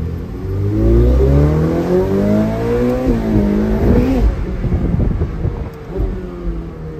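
A Ferrari supercar engine revs hard in Dubai, its loud, rising growl climbing through the rev range and then easing back, close and steady with no talking.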